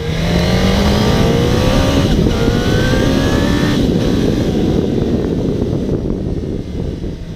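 A 2019 Suzuki Katana motorcycle engine revs loud and close, its whining pitch climbing steadily under a rough, raspy growl, with some wind noise behind it.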